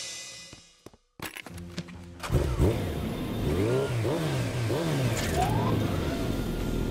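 A cartoon superhero motorbike revving for a road race. After a few sharp clatters, the engine roars close and loud, repeatedly rising and falling in pitch as it accelerates.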